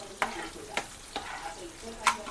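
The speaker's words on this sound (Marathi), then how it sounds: "आता तेल टाकून कांदा परतून घेतोय" Sliced onion sautéing in hot oil for an egg bharit, with faint sizzling broken by four sharp scrapes of a spatula stirring the pan at irregular intervals, close by and quiet.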